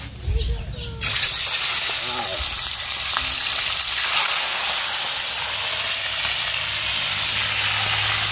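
Yellowfin tuna frying in hot oil in a very small pan, a steady loud sizzle and hiss running throughout after a brief quieter start, with a voice speaking briefly at the beginning.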